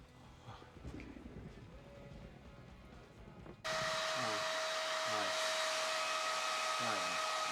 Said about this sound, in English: just gonna go dry my hair